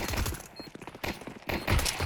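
Gunfire in a competitive shooter match: a quick cluster of sharp shots, then a pause and a second louder burst, with clattering movement sounds in between and no voices.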